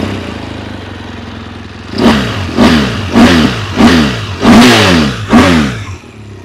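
A 2016 BMW R1200GS LC motorcycle idles, then revs in six loud throttle blips, each a rising roar that drops back, close and alone with no talk.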